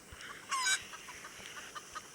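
A chicken clucks in a Roblox obby video game, a faint quiet scene broken by one brief brighter squawk and a few soft short clucks.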